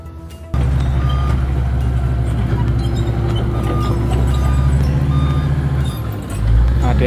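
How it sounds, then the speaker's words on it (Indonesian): A fleet of trucks delivering fill soil rumbles steadily and loudly at a toll road exit under construction, with a deep engine drone and a reversing beeper chirping over it, joined by a brief rise in engine noise near the end. "Dikebut ya teman-teman dengan beberapa armada truk yang sangat banyak dan tidak berhenti menghantarkan material tanah uruk."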